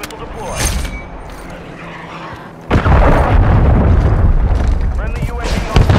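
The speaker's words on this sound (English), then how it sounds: "Friendly cruise missile deployed" A cruise missile strike detonates in Call of Duty: Modern Warfare III, a sudden deep boom erupting at mid-clip into a sustained loud rumble, preceded by ongoing battlefield noise and game voice callouts.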